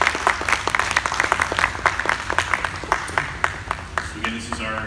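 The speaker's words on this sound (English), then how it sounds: "Let's give him a round of applause." An audience applauds at a live glassblowing demonstration, with a burst of scattered, crisp handclaps from a nearby crowd over several seconds while a voice talks alongside.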